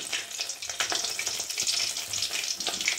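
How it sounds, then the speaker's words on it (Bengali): Cumin seeds, dried red chili and bay leaf tempering in hot oil and ghee for khichuri, a dense, continuous close sizzle with small crackling pops. "আমি এর মধ্যে ফোড়নটা দিলাম জিরে, শুকনো লঙ্কা, তেজপাতা"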